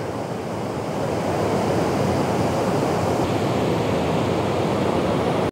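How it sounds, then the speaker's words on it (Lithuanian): Floodwater rushes over a swollen dam in spring, a loud, steady roar of churning water that fills the whole stretch without a break and with no voices. "Šiandieną Briksforte labai užtvanka yra patvinusi."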